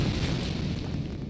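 Confringo spell explosion in Hogwarts Legacy, a deep rumbling fiery blast that fills the moment and slowly fades, heard alone with no voices.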